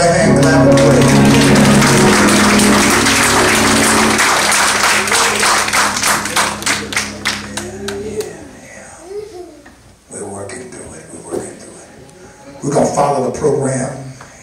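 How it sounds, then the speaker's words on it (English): A church congregation at a funeral celebration of life claps hands in praise, a dense, loud burst of many hands over organ or keyboard chords, then thinning into scattered claps and voices. "give the Lord a hand clap of praise"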